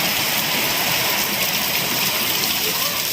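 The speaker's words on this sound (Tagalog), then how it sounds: "Ang hangin kakusog. Ang ulan nagpapit." Strong typhoon wind and heavy rain lash Cebu City in a dense, unbroken roar of pouring water and gusting air, loud and close with no speech.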